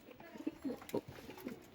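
Several soft, low pigeon coos sound at a home loft, a few short murmuring calls in quick succession, quiet and fairly close.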